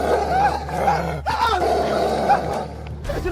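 Werewolf demon growl effect in an Indonesian horror drama, a continuous rough snarling growl with rising and falling howl-like tones, loud and close, without speech.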